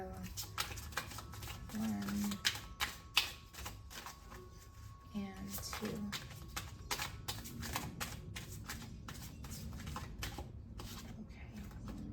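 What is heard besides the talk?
shuffling cards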